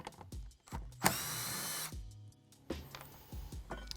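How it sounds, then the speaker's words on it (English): A power tool spins nuts off with a 10mm socket while removing a PCM from a Ford Bronco. Short close bursts of whirring and ratcheting come in several separate pulses, with the loudest, longest run in the middle. "we'll take a 10mm socket, spin the nuts off,"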